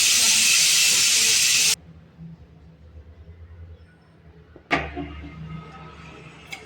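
Pressure cooker cooking masala khichdi lets off a loud, steady steam hiss that cuts off abruptly, followed by quieter kitchen clatter and a sharp burst of noise.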